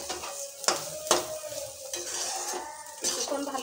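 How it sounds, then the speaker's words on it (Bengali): Rice stirred for pulao in a pan, close and quiet, with a spoon scraping and clinking against the metal in a few sharp taps over a soft sizzle. "কিছুক্ষণ ভালো করে নেড়ে নিয়েছি।"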